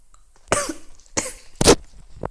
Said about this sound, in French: Comme j'ai mal à la gorge, du coup ça fait tousser.